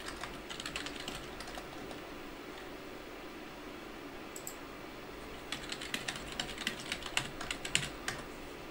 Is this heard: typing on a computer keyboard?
yes